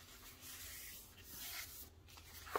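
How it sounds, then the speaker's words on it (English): Paper being folded and creased by hand, with a long, soft rubbing and crinkling that rises and falls, ending in a brief sharper crackle, close and quiet with no talking. "Just folding that, and then you're going to take and fold this."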